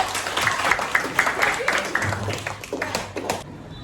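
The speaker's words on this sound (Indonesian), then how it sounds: "Tepuk tangan untuk Nana dulu." Students applauding in a sociology classroom, a short burst of fairly loud, uneven clapping from a small group that tapers off after a few seconds.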